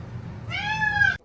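A cat gives a single drawn-out meow lasting under a second, clear and close, after a moment of quiet room tone.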